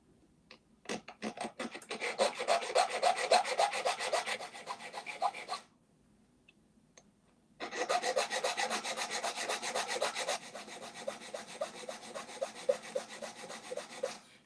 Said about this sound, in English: I found the triangle file works the best, and I'm going to keep filing down till I'm about 2/3 of the way through